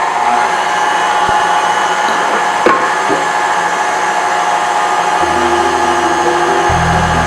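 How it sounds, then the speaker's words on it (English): Meat grinder motor running steadily while cookie dough is fed through it, a continuous loud whirring hum with no talk over it. "So I got my dough into my meat grinder"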